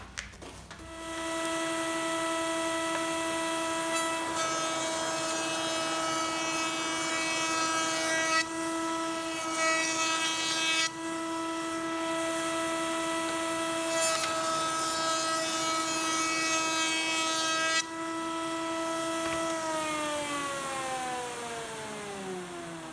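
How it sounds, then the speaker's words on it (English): A router fitted with a round-over bit spins up to a loud, steady high-pitched whine while it shapes a loose tenon. The pitch shifts slightly as the bit cuts, then the motor winds down near the end. "So I've just got a round over bit in here."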